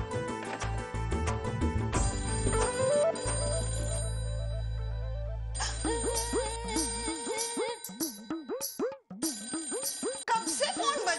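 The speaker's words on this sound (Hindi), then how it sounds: "कब से फोन बज रहा है, फोन क्यों नहीं उठा रही है तू?" A telephone rings indoors in a household scene, its electronic ringtone repeating in bursts alongside background music, with a voice speaking over it.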